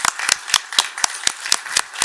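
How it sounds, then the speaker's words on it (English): Sparse applause from a commission meeting audience, individual sharp claps landing in a regular rhythm about four per second, close and clear over a quiet room. "Please join me in a round of applause for the talented artists"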